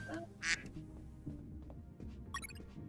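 Duck quack sound effect from the video game UnMetal, a short bright burst near the start followed later by another brief high squawk, set over low game background rumble with no talking.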